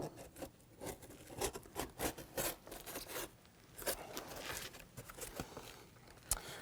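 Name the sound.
knife trimming tape on seat foam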